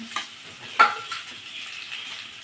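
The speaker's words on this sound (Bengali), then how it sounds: "এবার মশলাটা আমি সুন্দর করে ভুনে নেব" Spice paste being fried in a pan while cooking pangas fish, a soft, steady sizzle with a few faint scraping stirs, quiet and close.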